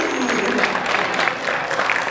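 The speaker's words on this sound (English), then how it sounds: "give yourselves a big biggest round of applause" Dense, sustained applause from a convention crowd in a large hall, loud and continuous throughout with a faint murmur of voices underneath.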